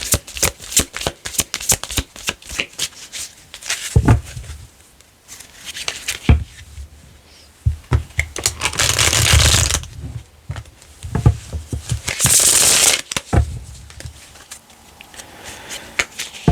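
A deck of tarot cards shuffled and handled up close, sharp rapid riffles and flicks in irregular bursts with two longer, denser shuffling runs and quiet gaps between, no voices.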